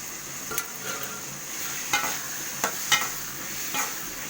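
Vegetables and beetroot for a beetroot thuvaiyal are sautéed in a pan, a soft continuous sizzle punctuated by several sharp spatula scrapes and taps against the metal.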